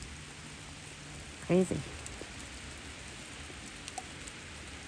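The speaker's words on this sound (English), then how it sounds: "it's starting to rain" Rain beginning to fall outdoors on a very cold day while a buck deer is fed: a steady, even hiss of drops fills the background, with one short spoken word near the middle.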